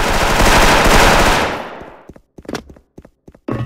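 Loud sustained automatic gunfire in Counter-Strike, a continuous close burst fading out, followed by scattered sharp clicks and footstep-like knocks.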